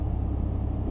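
A Lamborghini engine runs with the parking brake on, a steady, close, deep rumble held for a brief moment.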